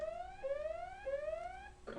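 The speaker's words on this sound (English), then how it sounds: "sorry about that alarm" An electronic alarm rings in three rising, sliding tones, each repeating at an even pace and ending abruptly.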